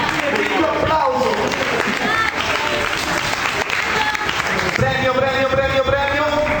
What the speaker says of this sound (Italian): Un applauso per questo gruppo di pesi massimi.